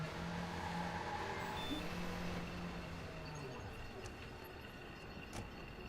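A taxi in the video game Watch Dogs drives past, a faint, steady engine drone whose pitch slides downward as the car moves off, over a low background hum.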